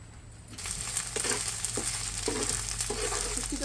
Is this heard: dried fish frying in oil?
yes